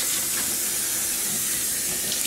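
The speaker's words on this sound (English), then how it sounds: "I'm going to rinse you off here a little bit now." Tap water running into a bath while a monkey is rinsed off, a steady close hiss and splash of flowing water with no pauses.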